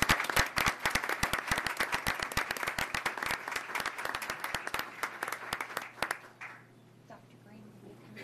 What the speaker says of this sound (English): We can give them a round of applause as they come forward